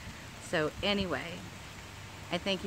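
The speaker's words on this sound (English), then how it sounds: "it's starting to rain a little harder" Steady outdoor rain, falling a little harder, makes a soft continuous hiss under a person talking.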